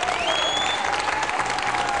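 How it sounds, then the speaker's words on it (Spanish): An audience at a comedy show applauds with loud, continuous clapping that fills the whole moment, a few whistles or cheers rising above it. "¡Aplaudan fuerte"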